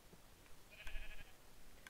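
A sheep in the video game Minecraft gives a single short bleat, faint against a quiet background.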